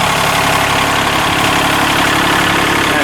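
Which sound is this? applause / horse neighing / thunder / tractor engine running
tractor engine running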